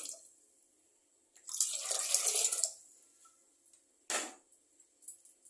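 Water splashes in a short pour into a pot lasting about a second, followed by a brief second splash, with quiet pauses between, while cooking kuthiraivali millet pongal.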